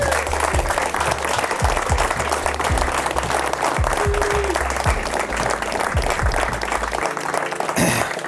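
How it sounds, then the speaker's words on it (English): A sustained round of applause from a crowd, dense steady clapping filling the room throughout. "I'd like a round of applause at the end for the 4 of them"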